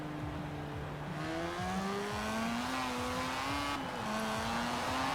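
A Mazda Cosmo's high-pitched rotary engine whines and revs upward in sweeping steps in Forza Horizon 4, like a race car accelerating through gears.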